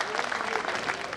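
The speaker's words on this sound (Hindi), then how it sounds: "एक बार तालियां बजा दीजिए आगे से पीछे तक" An audience claps steadily in a dense, continuous burst of applause, fairly loud and close, with no voices standing out.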